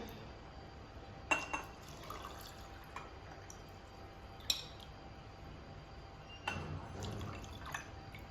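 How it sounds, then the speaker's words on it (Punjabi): Fennel (saunf) sharbat poured into glasses after mint leaves go in, with soft splashing and dripping bursts around a glass, plus a few light clinks, close and quiet, with no talking. "ਹੁਣ ਆਪਾਂ ਲਾਂਗੇ ਸ਼ਰਬਤ ਇਹਦੇ ਵਿੱਚ ਗਲਾਸਾਂ ਦੇ ਵਿੱਚ"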